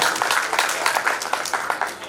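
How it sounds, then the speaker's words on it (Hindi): An audience at a staged play about the life of Sita breaks into dense, lively applause, many hands clapping at once with an uneven rhythm, steady and moderately loud throughout. "जोरदार तालियां"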